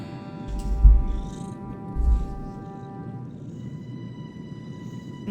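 A cat purrs softly and steadily at close range while being brushed, with a low continuous rumble and a faint electronic tone humming in the background.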